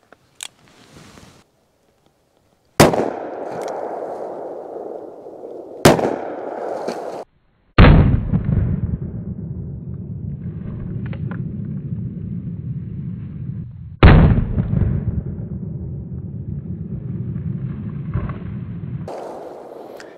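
Smith & Wesson 686 Plus .357 Magnum revolver fired at a range, several sharp, loud shots spaced seconds apart, each followed by a long booming echo and ringing decay.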